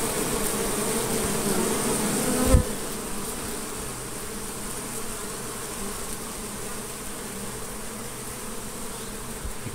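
Honeybees swarm around the hive entrance as foragers come back loaded with dark orange pollen. A dense, steady close buzzing continues throughout, with one brief thump near the start.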